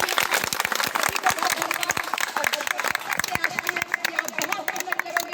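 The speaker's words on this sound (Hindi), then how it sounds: "इसके लिए इनके लिए जोरदार एक बार तालियां बजाइए" An audience at a school bench unveiling ceremony in Ambedkar Nagar claps loudly, a dense burst of many hands that carries on steadily with a murmur of crowd chatter beneath.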